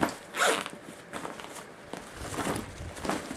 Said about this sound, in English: this zipper always gives me trouble